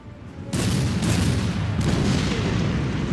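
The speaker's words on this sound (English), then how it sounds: "We'll go ahead and open fire with the primary guns again." Kriegsmarine naval primary guns fire in the strategy game Order of Battle, with a sudden heavy boom that erupts into a sustained, loud, rumbling roar of overlapping blasts, with no talking.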